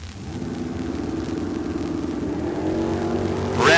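A green 1971 Camaro drag car at a drag strip, its engine rumbling steadily and then surging louder as it launches, heard at a distance with no talking.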